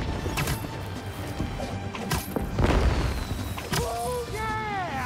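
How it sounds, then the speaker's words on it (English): Fireworks burst on a city rooftop in Spider-Man 2, several loud booms and crackles in quick succession, with whistling, rising and falling streaks near the end. "Fireworks."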